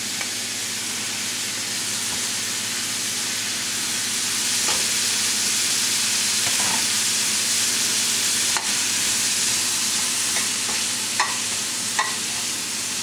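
Steady loud sizzling of vegetables, including cauliflower, frying in a pan for vegetable biryani, with occasional scraping stirs and clinks throughout.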